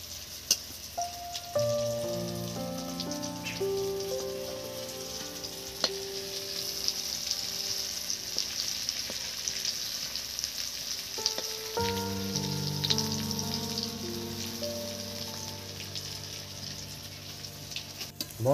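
Dhoka lentil cakes fry steadily in a pan for making dhokar dalna, a constant close sizzle with occasional pops and stirring noises, with background music tones over it and no talk.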